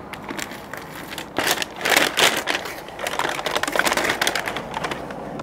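Crinkly wrapping is peeled away from a beef brisket after ten hours on an Oklahoma Joe's Bronco Pro smoker, a close run of papery rustles and crackles in uneven bursts.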